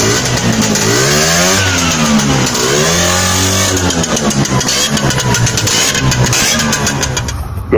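A Bajaj auto-rickshaw's small engine revs up and down in loud rising and falling sweeps, then pulls away with a sustained buzzing drone close by.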